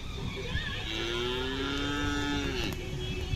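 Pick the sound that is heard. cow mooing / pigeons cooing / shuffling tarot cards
cow mooing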